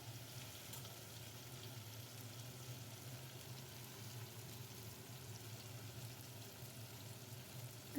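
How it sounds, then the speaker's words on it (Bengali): Chopped tomatoes are stirred into onions frying in a pan for a duck curry. A steady, close sizzle runs unbroken and fairly soft, with no voices. "টমেটোটাকেও দিয়ে ভালো করে পেঁয়াজের সঙ্গে নেড়ে নিতে হবে"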